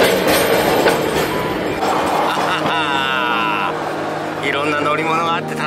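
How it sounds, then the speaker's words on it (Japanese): Street tram running through a street in Takaoka, Japan: a continuous rumbling rail roll with brief squealing wheel tones, heard under people talking throughout. "路面電車と一緒に走っている。"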